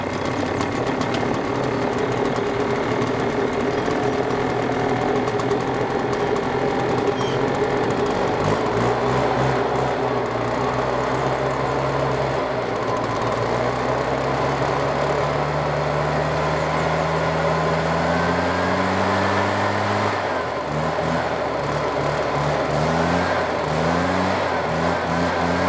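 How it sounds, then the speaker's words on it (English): A small two-stroke leaf blower starts cold and keeps running, its engine buzzing loud and close throughout, with the pitch dipping and rising as the throttle is eased and revved in the middle stretch. "That was the blower"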